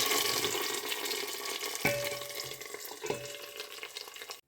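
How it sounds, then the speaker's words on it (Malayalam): Hot tempering poured into a Kerala dal curry gives a loud, broad sizzle that fades gradually, punctuated by a couple of sharp clinks of a utensil, close and without speech. "ഇനി നമുക്ക് താളിപ്പ് ഈ പരിപ്പ് കറിയിലേക്ക് ചേർത്ത് കൊടുക്കാം"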